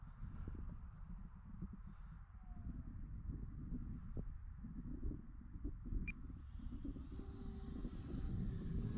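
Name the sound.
Arrows Viper radio-controlled model jet flying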